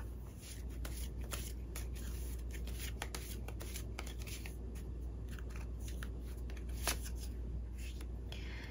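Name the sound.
shuffling tarot cards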